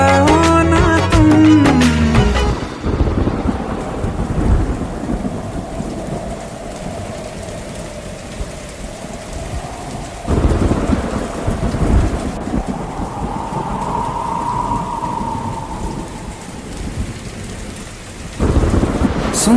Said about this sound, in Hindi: सुन सुन सुन बरसात की धुन सुन